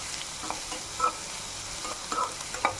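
Two large onions sautéing in a pan for prawn sukka, with a soft steady sizzle broken by a few scraping stirs of a spatula, heard close and alone.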